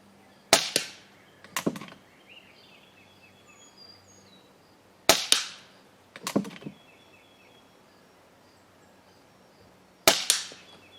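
A PCP air rifle fires three sharp, loud shots, each a crisp crack followed by a short metallic thump, spaced roughly five seconds apart over quiet background.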